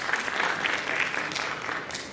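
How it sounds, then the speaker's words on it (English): Clapping from attendees at a medical microbiology conference chapter meeting at Karnal Medical College, a steady, moderately loud wash of many hands with scattered sharper claps. "A big clap to her."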